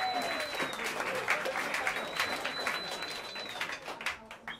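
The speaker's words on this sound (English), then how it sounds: "Please, bring your hands together and give a warm round of applause" An audience at a live jazz club at Smalls applauds steadily, with dense clapping and a few whoops filling the room, close and continuous throughout.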